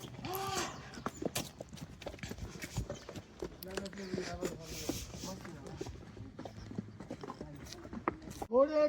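Horses' hooves clip-clop along the Mahasu peak trail at Kufri, Himachal Pradesh, a busy patter of steps under near, continuous chatter from people talking.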